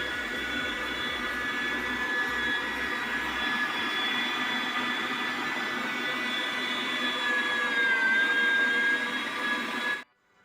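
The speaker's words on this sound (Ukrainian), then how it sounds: "Тепер цим кружком надіваю на м'ясорубку, собі повісила мисочку і будемо зараз молоти" An electric meat grinder grinding tomatoes whines and drones loud and steady with a mechanical grinding roar, running continuously before cutting off abruptly at the end.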